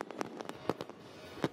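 Fireworks from the roughly 8,500-shot summer display at the Funabashi port waterside park festival in Japan go off as a rapid string of distant pops and bangs, some louder than others.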